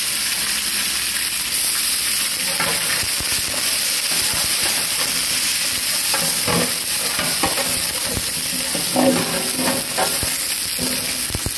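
Hot oil sizzles and hisses continuously in a pan for vegetable fried rice with cabbage, green peas, carrots and boiled rice, with occasional stirring clatter up close.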